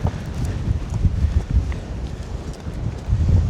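Strong wind buffets the microphone on Kentmere Pike, a Lake District fell top, with a continuous low rumbling roar that gusts and swells, loud and close, with no other sounds.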